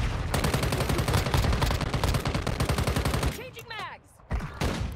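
Rapid bursts of gunfire in the mobile shooter Call of Duty: Warzone Mobile, dense and loud for most of the stretch, breaking off briefly near the end before shots resume, with a voice talking underneath.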